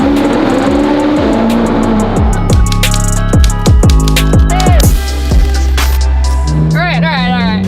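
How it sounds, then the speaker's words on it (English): A Ferrari 458 with its stock exhaust revving hard, repeated loud sweeping rises and drops in engine pitch, close and dominant throughout. "guys to remember the sound of this exhaust"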